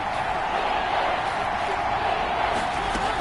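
Seahawks home crowd at an NFL football game against Pittsburgh, with the opposing offense in the red zone on third down, makes a steady, dense, loud roar with no break.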